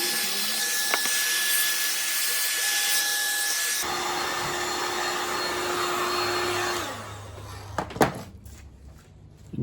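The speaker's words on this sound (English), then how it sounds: "if I heat this, it'll start to shrink." A heat gun blowing hot air to shrink material while bending guitar sides gives a loud, steady airy whine. It cuts off partway through, followed by close clunks and handling knocks, with no talking.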